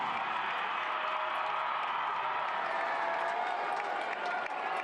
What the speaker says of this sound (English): the crowd is really getting up now for Andrew Tenari